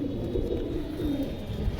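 A pigeon coos softly in a low, rolling murmur at night, steady and close, over a faint background hum.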